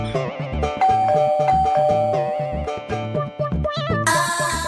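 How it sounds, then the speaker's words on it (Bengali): A household calling bell rings out its electronic doorbell chime, a bright melodic run of repeating tones played near and clear with no voices over it, ending in a brief burst of higher hiss. "আরে কলিং বেল বাজা।"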